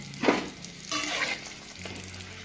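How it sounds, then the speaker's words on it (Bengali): Puris deep-frying in hot oil, with a short close sizzle that swells in two bursts and then settles under a low steady hum. "দেখো এখন পুরিগুলো ভাজছি এদিকে"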